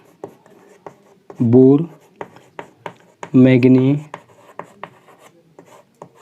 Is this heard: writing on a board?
yes